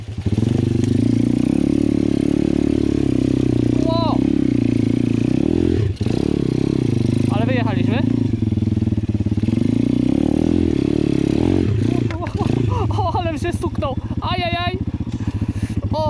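A quad or pit bike engine runs loudly and continuously up close, with its low drone shifting as it revs. Clattering and scraping come through, and a voice talks over it in places.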